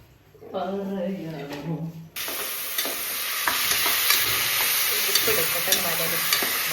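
Masala sizzling and being sautéed in a pan for chicken curry, a steady loud hiss with scraping stirs after a brief stretch of talk at the start.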